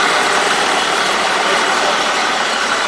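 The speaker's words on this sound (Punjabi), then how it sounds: "ਟਰੈਕਟਰ ਚੱਲਦੇ ਨੇ ਟਰੈਕਟਰ ਦੇਖੋ ਜਾਂਦਾ" A loud, steady modified tractor engine runs continuously at close range, a dense rumbling drone with no pauses and no voices.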